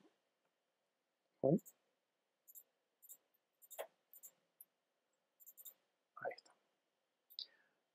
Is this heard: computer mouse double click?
yes